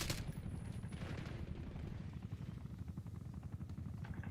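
A helicopter killstreak in the shooter game Black Ops 6, a dense low rotor thump with continuous rattling gunfire layered over it, steady and moderately loud for a few seconds.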